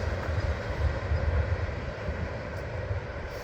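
Norfolk Southern coal train rolling southbound, a steady low rumble of wheels and cars passing close by with no talk.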